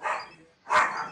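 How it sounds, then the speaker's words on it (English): Dogs bark twice in quick succession, moderately loud and fairly close, with a short pause between the barks. "there goes all my dogs."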